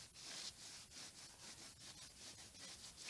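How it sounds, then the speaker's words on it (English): A part of a Kawasaki Z1000 J2 motorcycle is rubbed by hand to clean its surface, giving a quiet, steady back-and-forth scrubbing in rapid repeated strokes, close up with no talk. "rubbing that off"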